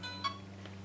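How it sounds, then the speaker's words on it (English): A single short phone notification chime, bright and fairly faint, rings out once over a steady low electrical hum in a quiet room. "sorry, that was my phone"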